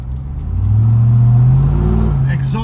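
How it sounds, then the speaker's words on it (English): A Dodge RAM TRX pickup revs up, its deep exhaust note swelling loud and close, holding a steady roar, then easing slightly with faint background noise. "Exhaust notes are just magnificent."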